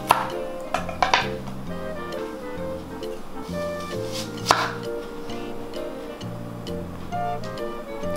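A knife chops vegetables on a board for a Thai glass noodle salad with shrimp and pork, giving a few crisp chops at irregular intervals over steady background music.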